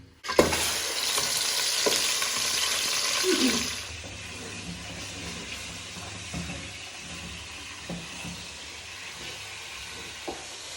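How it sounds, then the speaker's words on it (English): Meat browns in a hot pot for soup, loud and crackling for the first few seconds, then settling into a quieter sizzle with occasional stirring clinks. "So I want the meat to be all browned on the outside"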